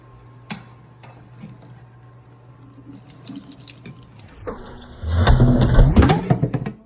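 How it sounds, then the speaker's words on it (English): Liquid from cooked lean venison being drained in a kitchen, a quiet trickle that builds into a loud, splashing rush of water for the last couple of seconds. "now that the meat is drained"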